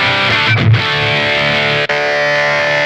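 Electric guitar through the Zoom G5's Distortion 1 setting gives a thick, sustained distorted chord with a brief strummed burst near the start and one short dropout, loud and up front throughout.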